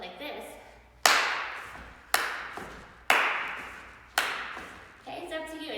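A Shim Sham tap dance sequence delivers four sharp, evenly spaced claps or taps about a second apart, each ringing briefly, with a voice speaking faintly between them.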